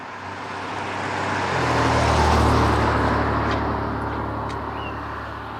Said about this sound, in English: And eventually she goes into third gear, and that makes some very, very pleasant noises.